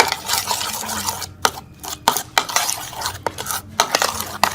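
A utensil stirs garlic paste and spices into yogurt in a bowl, repeated scraping and clinking strokes in an uneven rhythm, close and moderately loud with no talk.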